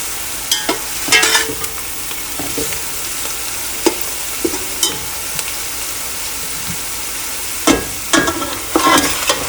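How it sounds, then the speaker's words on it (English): Whole spices such as cardamom and cinnamon stirred in hot oil and ghee in a pot, loud close sizzling with repeated sharp scrapes and clanks of the spoon at an irregular rhythm, no talking. "give it a stir"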